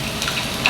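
Ginger and garlic sizzling in an Instant Pot, a brief, close, steady frying hiss with a few small crackles and pops.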